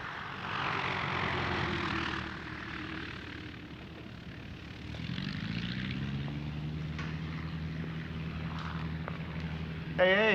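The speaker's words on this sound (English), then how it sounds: "Ace, is that you standing up on top of this biplane?" A propeller biplane drones overhead, its engine hum fading and then swelling again as it passes, with a steady throaty tone under some background noise.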